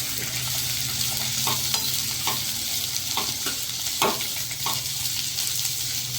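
Onions sautéing in a pan for a matar paneer curry, giving a steady broad sizzle throughout with a few soft scraping stirs of a spoon. Close and alone, with no voices.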